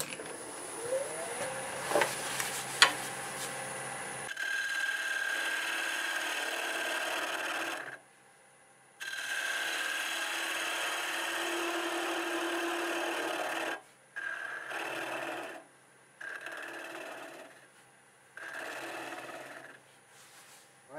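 Wood turning on a lathe while the area left by the live center is cleaned up: steady scraping and rasping bursts of tool on spinning wood, separated by short pauses, close by and with no talk.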